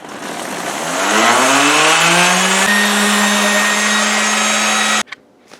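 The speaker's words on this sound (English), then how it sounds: "Sanded them down with 150." A power sander with 150-grit paper working wooden floating shelves, spinning up with a rising whine into a steady loud hum, then cutting off abruptly near the end.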